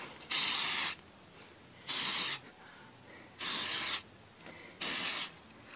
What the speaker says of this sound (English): take the lid off, shake it up real good, and spray it all along the roots